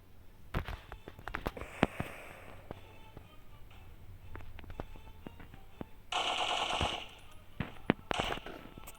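Gunfire from the Kar gun in a video game comes as quiet, scattered sharp shots and short bursts over faint background noise, with a brief louder hissing stretch near the end.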